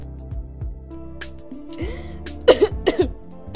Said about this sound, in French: c'est juste de la toux